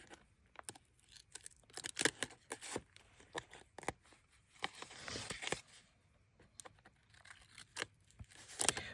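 Packing tape is torn by hand for holiday cards and belly bands, a quiet series of sharp rips and crinkles in irregular bursts, some longer tearing strokes mid-clip.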